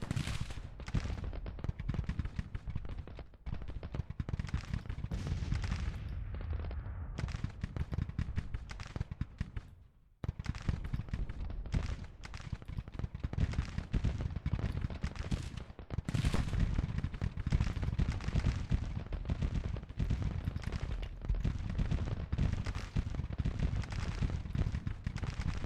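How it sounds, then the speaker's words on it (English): Artillery and musket fire in the Civil War strategy game Grand Tactician, a dense, continuous rumble of distant battle gunfire that briefly drops out near the middle before resuming. "we got James's guns in a good position, firing down on 2nd Brigade"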